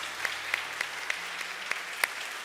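A church congregation at a midnight prayer service claps, with scattered rhythmic hand claps and a few sharper slaps over a soft background hum.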